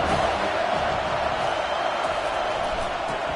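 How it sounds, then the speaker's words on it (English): A simulated stadium crowd roars on third down in the College Football 25 video game, a dense, steady wall of cheering noise throughout. "Third down, and this crowd is tearing the lid off this place."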